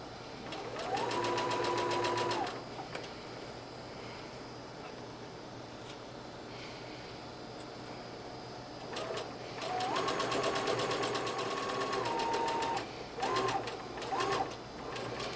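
Domestic sewing machine stitching a dress seam, running in two long bursts with short back-and-forth lockstitch passes near the end; a steady close motor whir and needle rattle, with doves cooing faintly in the background.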